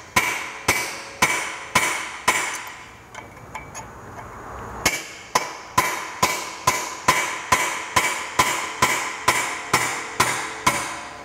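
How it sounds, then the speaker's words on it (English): A chisel is hammered against the exhaust header weld of a 1978 Vespa P200E, giving sharp metallic strikes in a steady, evenly spaced rhythm, with a short pause midway before the blows resume, loud and close. "I'm going to get the chisel on that weld, kind of hold it at a 45 degree angle"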